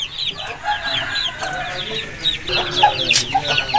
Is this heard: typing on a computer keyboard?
no